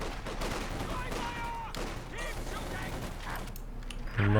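Rattling squad gunfire and scattered bursts from a real-time strategy battle in a Company of Heroes-style competitive mod, steady crackling shots layered under battlefield mechanisms, with a heavier thump at the close.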